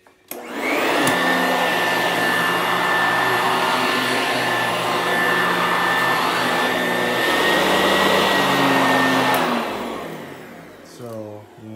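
A Sanitaire SC899 upright vacuum cleaner motor runs steadily with a deep hum and high whine for about ten seconds, then winds down.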